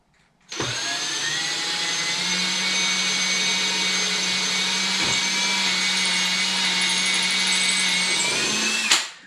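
A power drill drives a screw through trim wood into the main wood while a cordless wooden window blind is mounted. The steady motor whine runs loud and close for about eight seconds, with a slight click partway through and no talking.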